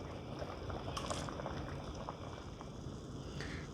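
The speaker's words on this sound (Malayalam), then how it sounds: "നമുക്കപ്പോൾ ഇതിൻ്റെ വെള്ളം ഊറ്റി കളയാം" Hot water draining off a pot of boiled tapioca in a home kitchen: a steady, soft liquid hiss and gurgle throughout, fairly quiet, with no talking.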